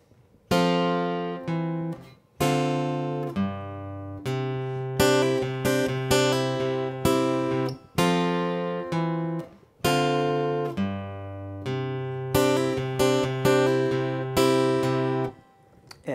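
A song's chorus fingerpicked on acoustic guitar, chord shapes plucked all at once and let ring, in several phrases separated by brief pauses, close and unaccompanied by speech.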